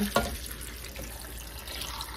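Water runs from a tap into a soup pot with a soft, steady rushing stream, a brief clunk near the start, and no voices.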